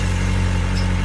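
A Kawasaki ZX-4RR motorcycle idles on its stock exhaust with a steady, close, even engine hum and a low pulsing drone, and no voices.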